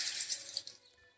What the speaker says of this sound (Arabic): نفتح الموية فيها يا جدعان.